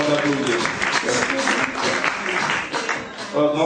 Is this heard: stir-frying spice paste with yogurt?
no